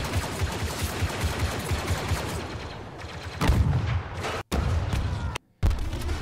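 Rapid blaster fire in the video game Star Wars Battlefront 2, a dense stream of loud sharp shots with thuds mixed in, running almost continuously with two brief gaps of silence near the end.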